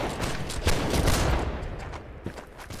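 A dense musket volley crackles through a Napoleonic-era line battle in the video game Holdfast: Nations At War, a loud, continuous burst of overlapping gunfire that swells and then thins out over a few seconds.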